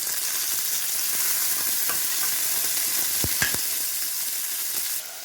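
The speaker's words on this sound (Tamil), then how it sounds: "வெங்காயம் சேர்த்துக்கலாம் கருவேப்பிலை சேர்த்துக்கலாம் வெங்காயம் நல்லா வணங்கட்டும்" Onions and curry leaves fry in a hot pan for sambar, a steady bright sizzle running the whole way through, with a couple of sharp stirring knocks partway in.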